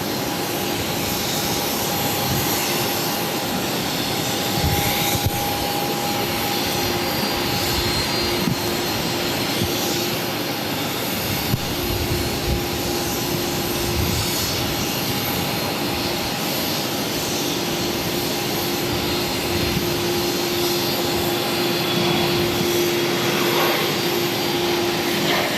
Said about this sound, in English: We got another heavy about to arrive on 22 left. This is Delta Airlines 225 coming in from Paris on the